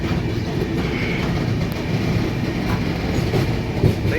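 Steady low rumble and rattle of a moving train carriage, continuous and even, with faint clicks and no talking.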